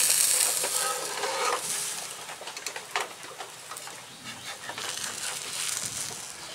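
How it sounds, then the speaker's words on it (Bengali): A metal spatula scraping and loosening palm pitha from a hot wok, with continuous sizzling and intermittent scratchy scrapes, close and fairly loud, with no voices. "এবার খুন্তির সাহায্যে আমি আরো একটু ছাড়িয়ে দিচ্ছি সাইডগুলো।"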